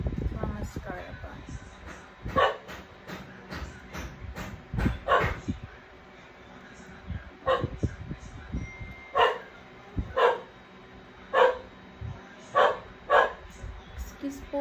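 Several dogs bark repeatedly in the background, in short bursts spread across the span, while someone talks over them in a home setting during a makeup routine.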